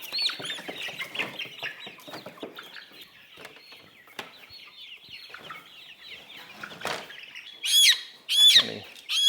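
Bantam chick and other chickens clucking and squawking on an off-grid woodland homestead, a busy overlapping chorus of close calls with wing flaps, ending in two louder bursts near the end.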